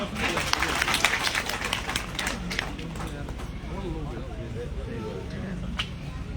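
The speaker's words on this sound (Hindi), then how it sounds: "मामीलाल जी गोयल का तालियों के साथ जोरदार स्वागत करें।" A crowd applauds steadily for a guest being welcomed with a turban at a public program in Ramgarh, a dense wash of many hands that keeps going under a speaker's voice.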